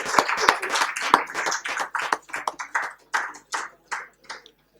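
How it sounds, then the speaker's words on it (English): Scattered clapping from a small seminar audience greets a senior professor of biological science at an ecology session, distinct individual claps in an uneven rhythm that thin out and fade by the end. "Please give a huge round of applause."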